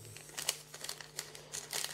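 Plastic wrappers of Dragon Ball Scouter Battle card booster packs crinkle and crackle up close as they are opened, in quick irregular bursts of crumpling.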